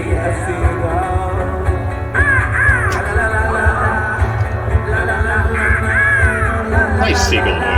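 A voice imitates a seagull call during a live comedy-music performance, giving repeated rising and falling squawks over a steady, dense background of music and crowd.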